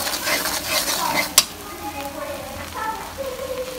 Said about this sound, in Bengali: মশলাটাকে সুন্দরভাবে কষানো হচ্ছে।